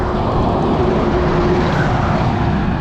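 Suzuki Address 125 scooter engine on a road test ride, a steady loud drone with continuous road and wind roar throughout, no talking.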